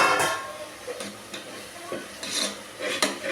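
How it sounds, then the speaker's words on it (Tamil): Stirring of a ground coriander, mint and curry leaf paste in a pan for onion pulao, with scraping strokes over a soft sizzle and a few sharper clinks near and distinct. "அரைச்சி வச்சுருக்கிற கொத்தமல்லி புதினா கருவேப்பிலை இந்த சாரையும் இதோட கொட்டி கிண்டிக்கலாம்"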